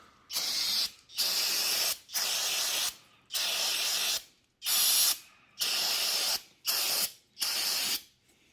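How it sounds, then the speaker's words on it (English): An aerosol can sprays onto a Duramax LLY diesel engine during a teardown, in eight steady hissing bursts about a second each, separated by short gaps, close and clear with no talk. "So let me spray right here"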